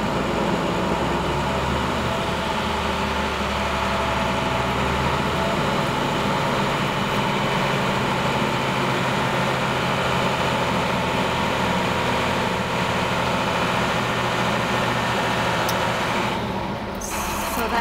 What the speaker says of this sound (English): We need to build air to at least 100 psi.